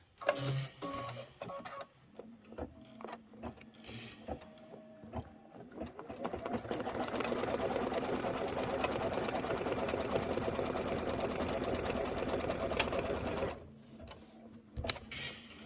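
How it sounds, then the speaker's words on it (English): A sewing machine sews a quilting stitch on a quilt block's inner border. A few light clicks come first, then the motor runs in a steady, rapid, close whir for about seven seconds before stopping. "let's go ahead and do the quilting stitch"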